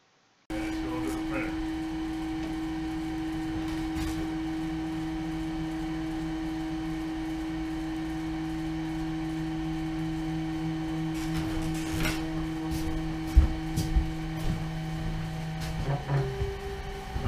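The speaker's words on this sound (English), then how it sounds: "Alright, now it's going to start printing." A Logojet UV printer with a rotary attachment runs a full-wrap print on a 39 oz bottle, giving a steady mechanical hum with sustained tones, then a few sharp clicks and knocks near the end.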